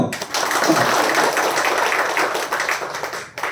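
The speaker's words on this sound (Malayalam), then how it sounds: "ഒന്ന് കൈയടിക്കാമോ" Audience applause: dense, continuous clapping from a crowd, fairly loud and steady for about three seconds before easing off, with no speech over it.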